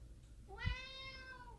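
A pet cat named George meows once in the background, a drawn-out, rising and falling cry in an otherwise quiet indoor room.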